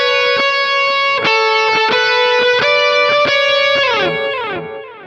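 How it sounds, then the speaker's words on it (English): An electric guitar lick for a worship song rings through a delay effect, played at speed as a fast run of bright picked notes with repeating echoes trailing off at the end. "you play it with the delay at speed, it sounds like this."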